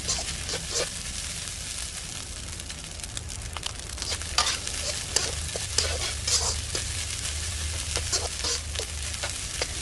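Pineapple fried rice made with day-old rice is stir-fried in a pan, a spatula scraping and tossing in quick irregular strokes over a constant sizzle, close up with no talking.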